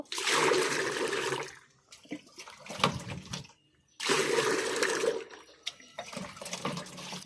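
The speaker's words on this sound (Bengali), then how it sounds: "ভাতের মার তো যেটুকু মার আছে তাতে অনেকটাই জল মিশাবো পাতলা করে দেব" Water is poured into rice starch water to thin it, two gushing pours a few seconds apart, each followed by quieter sloshing and trickling.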